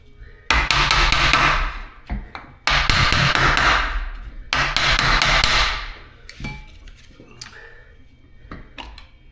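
Metal hammer blows on hand tools while servicing a DK-16 Weka drill, three loud sustained bursts of rapid ringing strikes, then scattered lighter taps trailing off.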